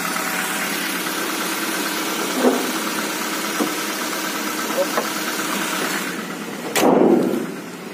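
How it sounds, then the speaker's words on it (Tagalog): A Nissan ECCS engine with an idle drop problem idles with a steady rumbling drone, faint irregular knocks ticking through it, and a louder burst toward the end. "Parang may kumakatok ah."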